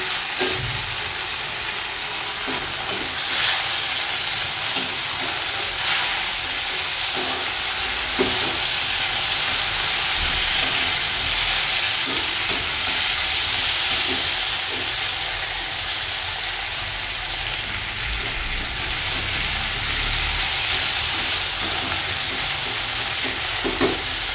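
Already-fried cauliflower is tossed and stir-fried in a pan for cauliflower chilli, giving a dense, continuous sizzle broken by frequent scraping stir clicks. It is heard up close with no voices.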